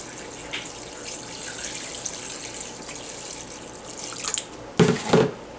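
Tap water runs steadily into a pot of chicken stock ingredients, a continuous splashing stream that swells into a louder, fuller pour near the end, with no talk over it.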